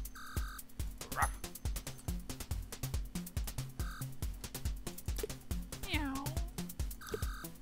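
Cartoonish cat meows rise and fall twice from the PC game Reigning Cats, set over steady, beat-driven game music and effects, with a brief voice passing.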